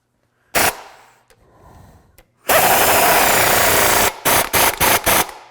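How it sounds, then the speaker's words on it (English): A wrench whirs in loud bursts, tightening bolts during a Zone 6.5-inch lift kit install. One short burst is followed by a long sustained run, then several rapid short pulses, all close and with no talking. "And then we're going to grab our wrench, tighten our bolts up."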